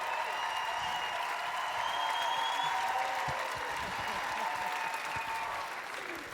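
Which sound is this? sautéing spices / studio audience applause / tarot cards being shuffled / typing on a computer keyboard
studio audience applause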